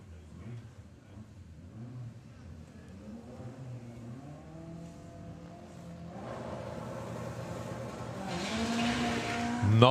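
A Volkswagen Golf drag car at Santa Pod launches and builds revs, its engine note rising and getting louder over several seconds under a commentator's voice, ending in a loud burst.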